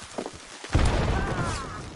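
A bomb goes off in a video game with a heavy boom and a rumbling tail, loud and close, after a few faint thuds.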